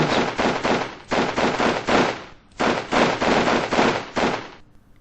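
Rapid bursts of automatic gunfire from troops in a World War II-era Winter War battle video game, heard as dense rattling volleys in several long strings with brief pauses, loud and close with no talk.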